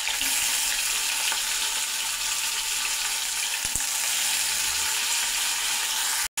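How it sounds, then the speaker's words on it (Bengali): 300 grams of paneer frying in oil, a dense, steady, close sizzle that runs unbroken, with a couple of faint knocks before it cuts off abruptly at the end. "দেখো পনিরটা আমার ভাজা হয়েই গেল, লাল লাল করে ভাজা হয়ে গেল।"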